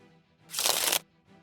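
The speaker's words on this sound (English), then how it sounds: "Shuffle your trash into your deck" Cards shuffled by hand as a discard pile goes back into a deck, a single quick riffle lasting about half a second, close and crisp, set between quiet stretches.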